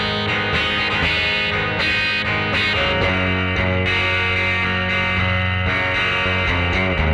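An electric guitar plays through a Hiwatt amp and a Soundtech speaker cabinet, giving a loud, distorted, sustained tone. Full chords ring continuously for several seconds with nothing else over them.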